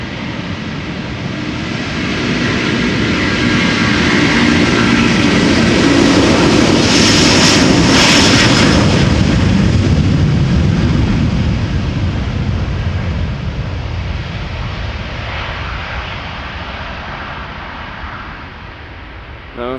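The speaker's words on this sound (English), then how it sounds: "engines that make a good sound when they take off, it is the A330-300." Jet engines roar up loudly as an Airbus A330-300 airliner takes off nearby at Amsterdam Schiphol Airport, a sustained powerful rumble with a whining edge that slowly fades as it departs.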